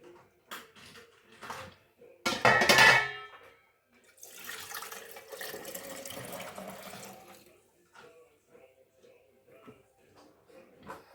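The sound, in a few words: broth poured from measuring cup into jar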